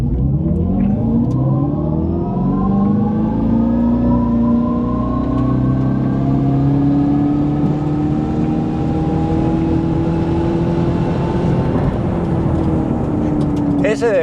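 An electric 2025 Dodge Charger Daytona launches for a quarter-mile run, its motor whine climbing steadily in pitch as it accelerates hard from a standstill, loud and close throughout, with a voice speaking over it.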